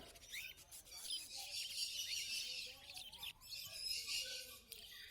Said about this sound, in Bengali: এবারে ফ্রন্ট ককটেল এবং লুটিনো ককটেল দেখতে পাচ্ছেন